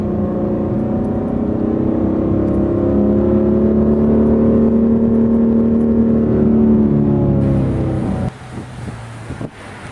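A 2010 Dodge Challenger R/T's deep exhaust rumbles loudly as the engine note rises steadily under acceleration, then cuts abruptly near the end into quieter rustling noise.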